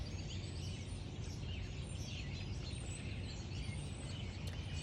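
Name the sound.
birds singing in a forest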